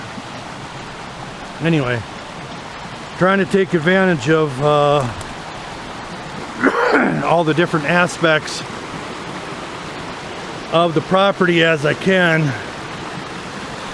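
A small creek on a rural property, below a roughly 40-foot drop from the roadside, flows in a steady, continuous rush of water while someone talks in short bursts over it.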